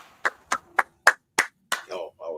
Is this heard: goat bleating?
no